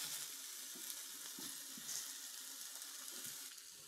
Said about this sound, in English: I think they're ready to come off the grill.